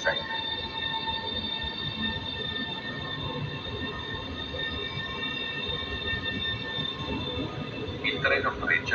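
A train rumbles steadily through Torino Porta Nuova station with a constant mechanical drone and whining tones, and a brief wheel squeal rises near the end.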